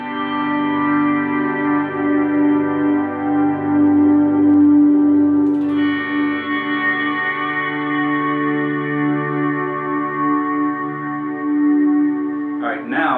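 Electric guitar swells with delay and reverb pushed fully up on church and tape settings, long sustained harmonic notes blooming and overlapping, a pitch shift midway and a brief new attack near the end, loud and alone.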